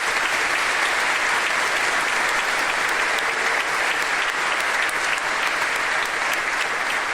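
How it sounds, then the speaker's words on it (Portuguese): A church congregation bursts into sustained applause for Jesus, a thick, continuous roar of many hands clapping at a loud, even level with faint crowd murmur mixed in and no clear speech. "Vamos aplaudir ao Senhor Jesus."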